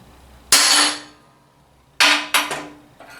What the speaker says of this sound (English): And then I'm going to use a hammer and give it one blow.